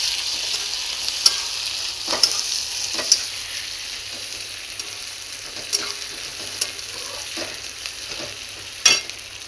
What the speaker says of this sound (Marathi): कांदा पण चांगला तेला शिजेपर्यंत भाजून घ्यायचा आहे